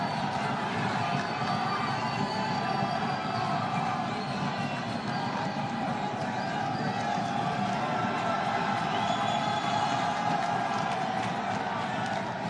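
Frenzied cheering and shouting from an assembled audience at a ceremony in the commune of Lantsele, a dense, steady crowd roar that fills the whole stretch at constant loudness.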